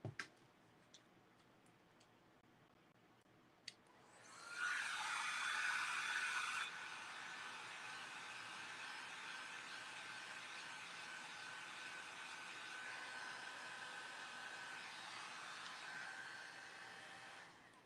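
A heat tool or hair dryer blows steadily over a craft project, a clock decorated with a transfer. It starts abruptly after a few quiet ticks, loudest at first, then settles into a constant airy roar that runs to the end.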